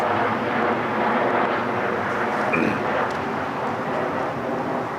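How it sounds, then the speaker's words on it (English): A steady, broad roar of an airplane passing overhead fills the whole stretch, constant and fairly loud, with no talking. "Plane overhead."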